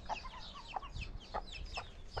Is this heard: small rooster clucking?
yes